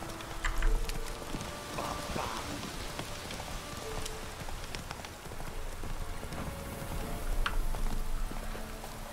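A horse's hooves clip-clop steadily in The Witcher 3, mid-distance and moderately loud, with a soft rain-like hiss and scattered ambient game sounds behind them.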